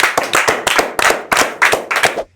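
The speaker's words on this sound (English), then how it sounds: "Give yourselves a round of applause." A small group claps in quick uneven bursts after finishing an app-building challenge, close and loud, with sharp distinct hand slaps and brief pauses before stopping abruptly.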